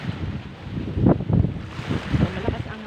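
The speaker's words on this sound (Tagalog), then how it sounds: "ang maririnig mo mga hampas ng mga alon sa dalampasigan" Ocean waves wash onto a beach under strong northeast monsoon wind, a steady rushing roar with wind buffeting the microphone and uneven surges throughout.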